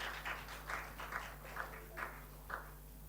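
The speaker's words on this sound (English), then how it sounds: "finally give the applause for our second speaker" A seminar audience gives scattered applause for the second keynote speaker, with a handful of soft, uneven bursts of clapping spread over a few seconds over a steady low hum.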